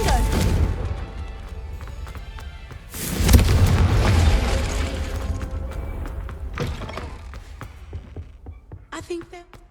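A fire-blast spell cast in the fantasy video game Hogwarts Legacy, a heavy booming explosion with crashing debris and clattering thuds that rumble away, over earlier mechanical creaks and low game ambience.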